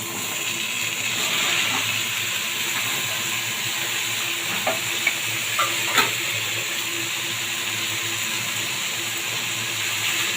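Bottle gourd pieces with turmeric fry in a pan under a steady broad sizzle, with a few soft scrapes as they are stirred, continuous and fairly close with no talking.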